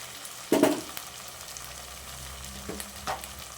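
Vegetable rice cooking in a pan at home, a low continuous sizzle with a sharper stir or clatter near the start and a couple of lighter utensil touches later.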